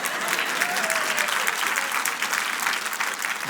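Audience applause at a French-language jubilee talk, a dense, steady wash of clapping from a large crowd, loud and continuous throughout with a faint murmur of voices beneath.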